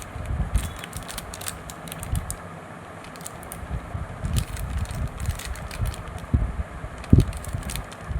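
A machine sealing fast-food packets runs close by with a steady mechanical whir, overlaid by irregular ticking and clacking and a few sharper knocks.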